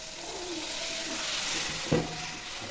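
Water poured into a pan of frying banana flower with ginger and spices hisses in a broad, steady sizzle close by, with a brief bump of clatter partway through.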